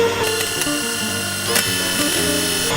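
Electric mixer whisks beating pancake batter in a bowl, a continuous close mechanical whir with rattling clicks throughout the short stretch.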